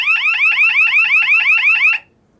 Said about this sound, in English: it goes straight into alarm, as you just saw